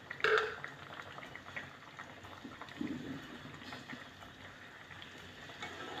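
Sola kochu curry bubbling in a pot, a soft continuous simmer with faint gurgling bursts and occasional louder pops, low and steady without voices.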